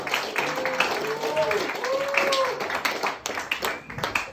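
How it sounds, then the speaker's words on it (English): A comedy club audience gives a short burst of clapping and applause for a stand-up comedian, close and lively, fading out over a few seconds as a voice talks over it. "Round of applause one last time."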